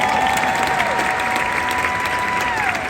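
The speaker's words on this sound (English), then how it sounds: "I appreciate a round of applause." Studio audience applause during a wrestling interview, a steady dense wash of clapping held at even loudness throughout, with a faint tonal line running underneath.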